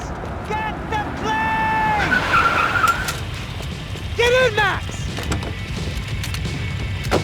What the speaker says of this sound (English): Just drive the fucking car!